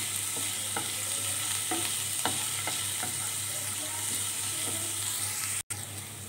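Garlic and ginger sizzle steadily in hot oil while a spoon stirs and scrapes the pan in several light, irregular strokes, close and continuous with a brief dropout near the end.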